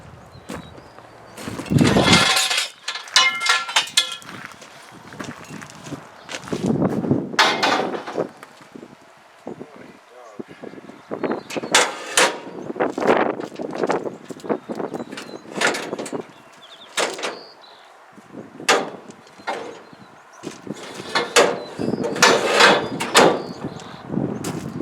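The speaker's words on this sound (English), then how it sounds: "We've got some nice big round bars and stuff that Chuck's gonna get loaded in here." Big scrap steel round bars are loaded for a haul in heavy, irregular metallic clanks and thuds, some loud and sharp, separated by quieter gaps, with no talking.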